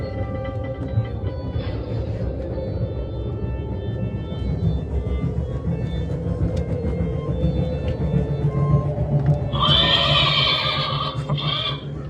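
Inside the stables of a haunted house attraction, a horse whinnies loudly near the end, a shrill quavering neigh rising above a continuous low mechanical rumble that fills the whole clip.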